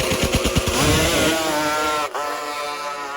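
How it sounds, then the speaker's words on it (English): A two-stroke Kawasaki H2 motorcycle revs hard at a drag strip, starting with choppy, pulsing bursts. It then rises into a loud, sustained screaming wail, with a brief dip as the gear changes, heard close and without talk. "there goes Derrick in his beautiful H2."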